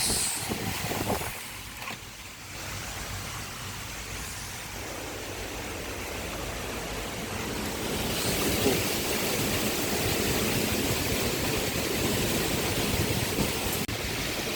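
Super typhoon winds roar as a dense, continuous rush of noise that builds and grows stronger, broad and unrelenting from start to finish.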